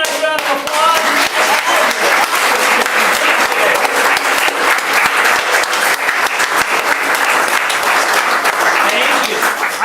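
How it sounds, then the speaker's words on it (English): Loud, dense applause from an audience at a spring recital as performers stand, continuous clapping filling the room with some voices mixed in. "Let's give you a nice round of applause."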